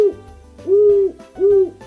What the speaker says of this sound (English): Our first bird today is the wisest of them all. It's an owl.